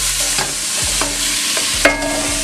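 Turkey curry frying in a pan while being stirred: a dense steady sizzle with a few sharp utensil knocks and scrapes against the pan, close and fairly loud, no talking.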